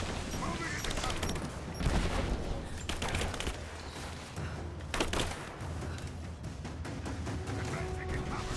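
Video game gunfire from Tomb Raider, a loud close fusillade of rapid shots and bursts coming in clusters throughout, mixed with other battle noise.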